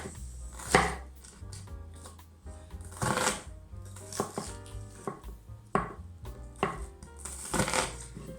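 A knife cuts vegetables into thin strips on a board, with short crisp chopping bursts arriving irregularly, close and clear, with quiet pauses between them.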